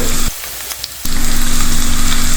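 Shallots sauteed in a pan for a Kerala shrimp and jackfruit curry give a loud, close sizzle that drops sharply for a moment and then surges back to a full, steady fry.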